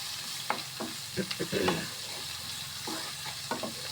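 Prawn masala for Kerala-style prawn theeyal, just salted and stirred in a pan, a soft sizzle under a handful of close scraping stirs clustered in the middle, fairly quiet, no voices.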